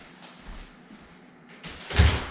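A door at a house entrance bangs shut with a low thump near the end, after a few faint rustles and a soft earlier knock.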